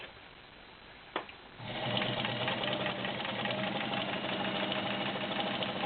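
A vintage heavy-duty Kenmore Model 33 sewing machine starts with a brief click, then runs steadily and fairly loud, a continuous mechanical whir and rapid needle chatter for several seconds with no talking.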